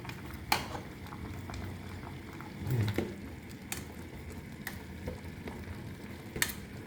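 Ears of corn boil in a pot with a low bubbling simmer, broken by a few sharp clinks and knocks from stirring or handling.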